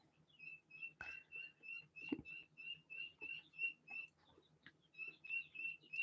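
Guinea fowl chicks give a rapid, regular series of thin, high peeping calls, faint and fairly close, over a low background rumble with a few soft knocks.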